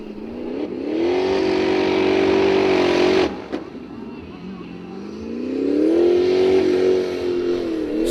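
The Green Thunder Formula Offroad car revs its engine hard at Hella, Iceland, holding a loud sustained whine, dropping off with a sharp bang, then climbing back into another long rev, while a commentator talks over it.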